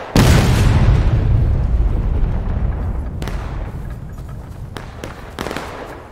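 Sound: artillery battery cannon fire at Civil War reenactment

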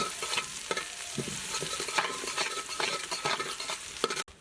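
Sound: onions frying in a pan

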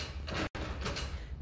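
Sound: door sliding open in the video game Slides & Doors Escape 2

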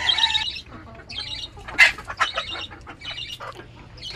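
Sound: chickens squawking on a small farm

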